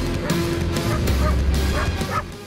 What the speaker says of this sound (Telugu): ఊళ్ళో కుక్కలు అరుస్తున్నాయి.